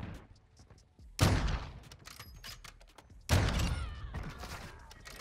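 Two loud, sharp sniper rifle shots from the Victus XMR in Modern Warfare 2, each ending in a booming, rolling tail, the second about two seconds after the first, with lighter game clatter and movement between them.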